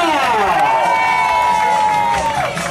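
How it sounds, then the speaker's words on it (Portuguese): A crowd at a birthday tribute in central São Paulo cheers, claps and shouts loudly together, with a voice rising in pitch over the noisy, sustained roar. "salva de palmas para nossa homenageada"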